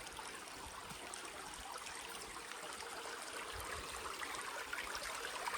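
Water flows beneath a hollow rock under the Swayambhu Loteshwar temple at Dugwe, a continuous soft trickling and streaming hiss holding steady throughout with no one speaking.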